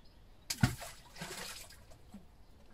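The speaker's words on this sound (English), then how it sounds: "I think that sounds like water." Water trickles and splashes faintly inside a well pipe, opening with a brief sharp knock and then a soft, hollow dribbling that fades out.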